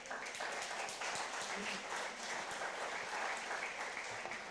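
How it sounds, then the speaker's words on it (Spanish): A church congregation applauds, a dense, steady wash of clapping from many hands that fills the whole stretch at an even level, with faint voices mixed in. "Denle un aplauso a Dios,"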